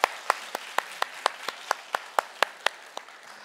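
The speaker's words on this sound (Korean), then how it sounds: "우리 축하의 박수 한번 올려드립시다" Celebratory church clapping for a newborn baby comes as sharp, evenly spaced claps in a steady rhythm, about four per second, close and distinct against a quiet background.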